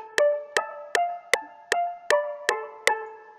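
Main melody synth notes in an FL Studio beat: eight bright plucked tones struck at an even, brisk pace, each ringing briefly before the next, clean and alone.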